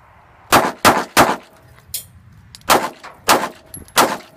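Sharp, loud pistol shots at close range during an FBI qualification course: three quick shots, a pause with a faint metallic ding, then three more evenly spaced shots, each crack decaying quickly on an outdoor range.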